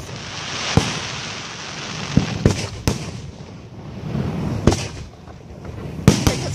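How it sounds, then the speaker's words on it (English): Fourth of July fireworks in Menasha play back from a recording, a scatter of sharp booms and crackles over a low rumbling wash, moderately loud and somewhat distant. "I'm just watching Mike's firework video from Flags."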